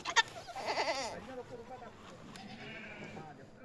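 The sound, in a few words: goats bleating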